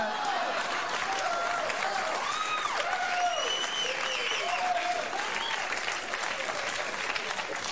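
Studio audience applause at a late-night television talk show, a dense steady roar of clapping with whoops and cheering voices riding on top, sustained loudly for about eight seconds.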